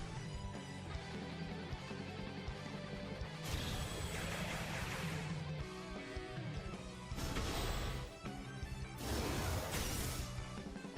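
A Destructive Blow attack landing in Romancing SaGa, heard as loud crashing, smashing impacts in several bursts over game music, with heavier hits near the middle and end.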